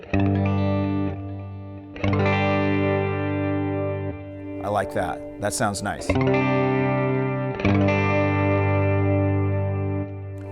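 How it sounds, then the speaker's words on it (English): Guitar chords ring out through a Fender Mustang GT amp with a tap-tempo delay effect, sustained and repeating, interrupted midway by someone speaking briefly before the delayed chords resume. "I'm going to adjust the delay from the tap tempo button at the bottom here"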